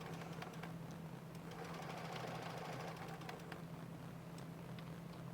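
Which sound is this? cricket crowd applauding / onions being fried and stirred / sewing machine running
sewing machine running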